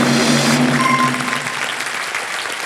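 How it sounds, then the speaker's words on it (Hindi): Studio audience applause on an Indian television quiz game show set, a dense burst of clapping that starts loud and thins slightly as it continues. "ऑडियंस पोल जीवित करना चाहेंगे, ताली बज जाए"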